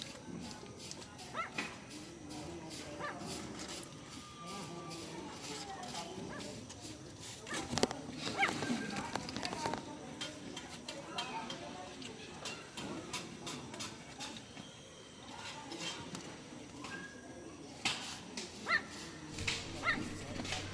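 A small puppy barks and yips intermittently after drinking milk, fairly close but not loud, with faint whimpers and background noise and some people talking around it.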